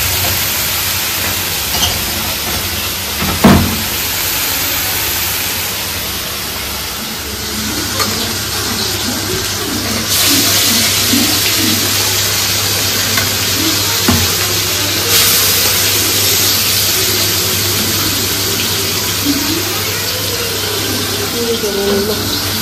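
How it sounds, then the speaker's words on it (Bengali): Broccoli florets fry and sizzle in a hot pan, a steady hissing crackle with occasional scraping stirs, close and loud throughout. "ব্রকলিগুলো ভাজা হয়ে গেছে"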